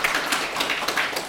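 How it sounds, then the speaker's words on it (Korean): Church congregation clapping in a quick, steady patter of many hands for about a second and a half, fairly close, with no talk over it. "박수 한번 칠까요?"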